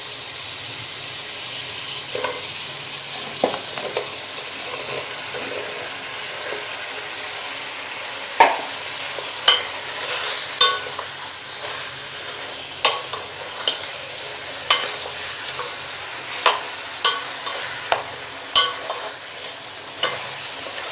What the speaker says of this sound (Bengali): এখন এর ভিতরে দিয়ে দিব এই আগে থেকে ধুয়ে এবং কেটে রাখা ঝিঙাগুলো